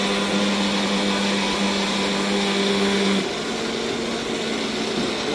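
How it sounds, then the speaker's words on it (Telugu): A mixer grinder running in a home kitchen, a loud steady motor whine with a droning hum that drops slightly in pitch partway through, continuous and close. "ఒక పక్క మిక్సీ సౌండ్"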